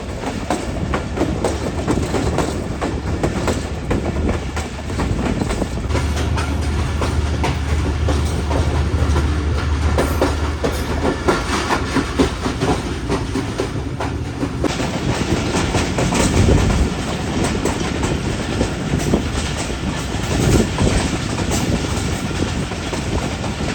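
The Bolan Mail passenger train running between Sehwan and Karachi, heard as a loud continuous rumble of wheels on rails with rhythmic clickety-clack and carriage rattle, steady throughout with no voices.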